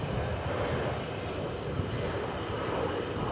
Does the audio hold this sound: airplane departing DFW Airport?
yes